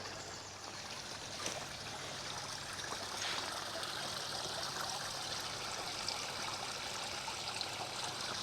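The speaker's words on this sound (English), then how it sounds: "there's the lovely cascade, with the morning sun glinting on the water" Water spills steadily over a natural-looking stone cascade into a restored garden pond with yellow flag iris, a continuous soft trickling and splashing flow heard alone at moderate distance.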